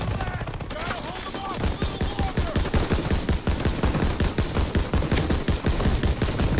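Rapid automatic gunfire rattles through a World War II Battle of the Bulge video game battle, with sharp repeated bursts running almost nonstop after a brief quieter opening, loud and close in the mix.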